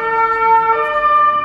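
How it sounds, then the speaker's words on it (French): An ambulance siren sounds loud and steady nearby, a sustained wailing electronic tone with no speech over it. "c'est l'ambulance"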